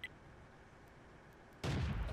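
A tank cannon fires in World of Tanks, one sudden loud broadband blast near the end that rings on, after a quiet stretch of low game ambience.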